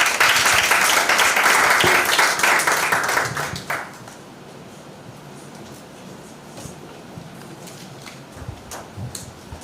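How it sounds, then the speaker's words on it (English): Audience applause at a high school debating competition welcomes the proposition leader, a dense, loud burst of clapping that fades out after about four seconds, leaving quiet room tone with faint scattered claps. "Please give the leader a round of applause."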